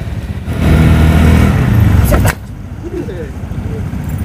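A motorcycle engine is started and roars and revs loudly for about two seconds, then cuts off abruptly, leaving quieter background noise.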